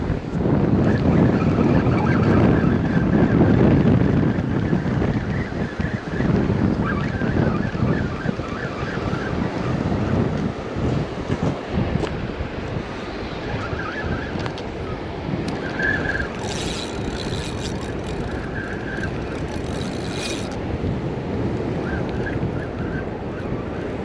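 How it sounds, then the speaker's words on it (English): Strong, steady wind buffets the microphone on a beach at Hilton Head Island during surf fishing. A continuous low roar blends with distant surf, loudest in the first few seconds, then easing slightly. "It's so windy. Like, it's not that cold out, but the wind is cold and it's blowing pretty steady."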